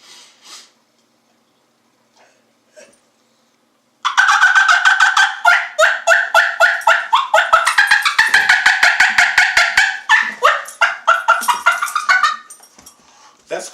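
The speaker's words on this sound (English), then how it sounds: "So here we go with a few turkey calls that you can use." Turkey call device producing a rapid series of clucks and rolling purrs, loud and close, after a few seconds of near silence with faint soft sounds.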